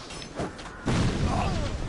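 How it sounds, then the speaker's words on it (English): A delayed bomb explosion in a Souls-series video game lands as a sudden broadband boom about a second in, after quieter game ambience. A dense, sustained rumble follows to the end. "I hate that delayed explosion crap."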